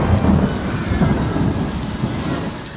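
Heavy torrential rain pours during a thunderstorm at Disney Springs, with low rolling thunder rumbling beneath a dense, steady wash of downpour, loud and close.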